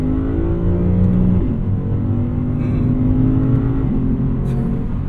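A 2024 Lexus IS500 V8 pulls hard in second gear on a highway, its loud, steady engine note climbing in pitch through the run, rich and continuous with no talking.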